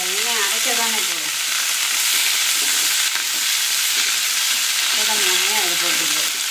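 Capsicum fries in hot oil in a pan, producing a continuous loud sizzle and crackle, with a voice speaking over it at the beginning and the end.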